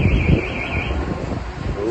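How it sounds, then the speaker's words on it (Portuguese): A car alarm tone carries on through the first part and then cuts out, leaving a windy, rustling outdoor background near a truck loaded with banana boxes; no one speaks. "o alarme disparou esse dia ainda."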